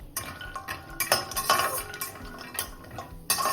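Cashews cook in melted ghee in a kadai as a spoon clinks and scrapes against the metal in quick, uneven strokes over a soft background sizzle, close by and without speech.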